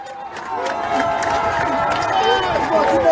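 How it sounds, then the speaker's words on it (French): A crowd of Libreville residents in Gabon cheers soldiers behind a coup against Ali Bongo, a continuous outdoor roar of shouts, whistles and raised voices at steady loudness throughout. "Des militaires auteurs du coup de force en cours au Gabon contre Ali Bongo applaudis par des habitants de Libreville."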